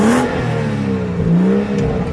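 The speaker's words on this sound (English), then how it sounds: "Let's do a little rev time." 2017 BMW 435i M Sport in black revving its engine, a loud close blip that rises and dips in pitch, with a brief throaty swell and settle over two seconds.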